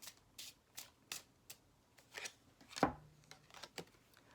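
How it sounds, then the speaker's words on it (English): Tarot cards shuffled in a series of quick papery riffles and taps, spaced bursts with short pauses between them, close and fairly quiet with no talking. "let me do another shuffle"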